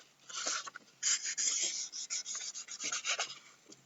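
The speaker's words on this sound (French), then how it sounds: "on peut très bien tenir les crayons comme ça, glisser un peu partout sur la feuille" Dry scratchy rubbing of crayon strokes on paper, quick back-and-forth passes with short pauses between bursts, close and fairly quiet.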